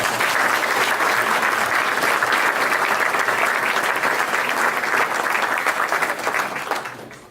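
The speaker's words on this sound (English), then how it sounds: "I'd like us all to give a warm applause and a tip of the hat to the people who have brought their boats here in some trouble" A symposium audience at the Aage Nielsen Classic Yacht gathering applauds the owners who brought their boats. The warm, sustained applause from a large crowd holds evenly, then tapers off at the end.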